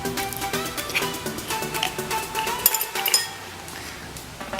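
A spoon clinking against a bowl while glow-in-the-dark slime made with Elmer's glow glue and borax is mixed, a quick run of light metallic taps and scrapes, close and moderately loud, with no talking.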